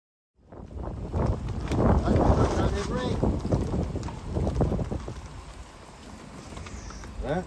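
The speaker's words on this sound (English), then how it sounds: "windy out today" Strong winter wind sweeps across a causeway near a fisherman's wharf, buffeting the microphone in loud, rushing gusts that swell and ease, with a muffled voice faintly underneath.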